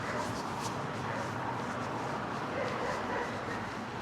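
A big dog barks and yips near a river trail, heard amid loud wind or rolling noise from a rigid steel hardtail mountain bike. The barking is only partly distinct through the steady roar.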